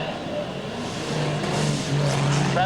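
A modified production race car at Maryborough Speedway during testing, its engine a distant, steady roar that builds slightly over a few seconds beneath a commentator's voice.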